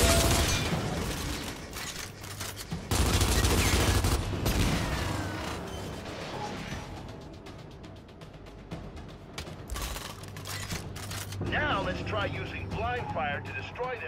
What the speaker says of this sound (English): Try using blind fire to destroy them while keeping yourself protected and covered.